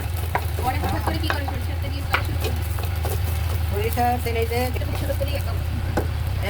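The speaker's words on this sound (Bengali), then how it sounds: "হাতলের সাহায্যে নাড়াচাড়া করে ভেজে নেব।" Cornflour-coated winter vegetables are stir-fried in a pan with a spatula: a steady sizzle with repeated scraping and clattering strokes, and a voice talking faintly underneath.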